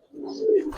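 A single short, soft coo from a pigeon, one low throaty note rising slightly and then fading, quiet and close.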